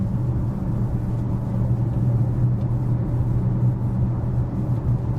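Cabin of a Maserati Grecale Folgore electric SUV cruising on the road, a steady low rumble of tyre and road noise with no engine note and no talk.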